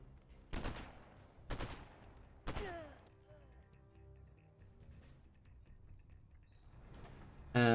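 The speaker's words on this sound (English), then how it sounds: "Well, there is the artillery." Three heavy artillery blasts boom out in quick succession in the Command & Conquer: Generals Zero Hour real-time strategy game, each a loud broadband thump with a ringing tail, followed by quieter battlefield clatter and a final loud burst.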